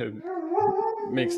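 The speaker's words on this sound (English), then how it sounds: "sorry, that's my dog." A dog howls in a long, wavering tone under a person's talk, rising and holding for about a second before trailing off.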